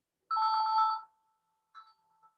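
A mobile phone ringing during an online water-quality training session, giving one clear electronic ring tone of under a second, then a shorter, fainter burst after a pause.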